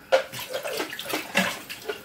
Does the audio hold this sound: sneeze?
no